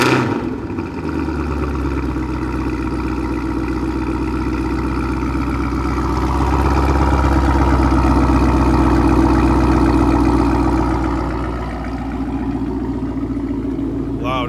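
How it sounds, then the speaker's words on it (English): A car at a Seattle Cars and Coffee meet cold-starts and settles into a loud, steady idle, rising in level midway and then easing back down. "right, you want to go into the back, Johnny, for the good old cold start?"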